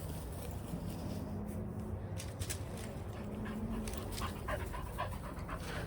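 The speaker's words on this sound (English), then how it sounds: "Entertain the dog." A dog pants steadily and softly nearby outdoors, a low continuous breathing rhythm under faint wind and background noise, while gear such as a tent is being packed.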